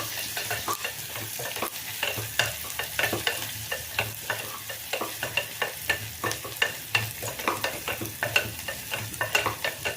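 Chopped onion frying in a pan, a steady sizzle broken by regular scraping clicks of a spatula stirring, close and moderately loud with no voices.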